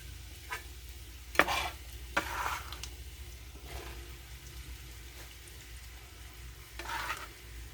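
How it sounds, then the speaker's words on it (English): Chopped zucchini and other vegetables sizzle in a hot oiled pan for creamy zucchini pasta, with a few sharp clatters and scrapes as they go in and are stirred over a low, steady fry. "Everything that we just chopped, we're just going to add this to our pan."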